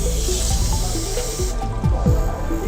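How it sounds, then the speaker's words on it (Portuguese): Tap water runs steadily into a sink as hands are rinsed, a dense continuous hiss and splash with small shifting gurgles close by. "Eu abro a torneira"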